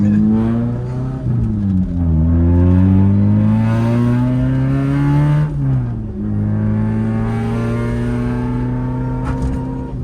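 Toyota Corolla AE86 GTS with a swapped engine and a worn bearing, revving hard and loud up and down through several sweeps, its raspy engine note filling the whole stretch with no talking.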